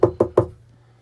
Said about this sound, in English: Knockety knock knock knock.